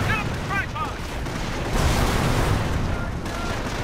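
Mortar team firing in the World War II strategy game Company of Heroes, a dense battlefield of booms, distant gunfire and rumbling explosions, with a few whistling incoming shells early on and continuous background combat noise.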